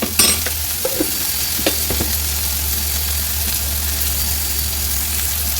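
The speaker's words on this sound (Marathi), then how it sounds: "सर्व मसाले व्यवस्थित तेलात परतवून घेऊ। थोडंसं मीठ टाकलं की कांदा लवकर शिजतो।" Onion and spices with a little salt sautéing in oil in a pan, a steady close sizzle with a few stirring scrapes and clinks early on, over a low background hum.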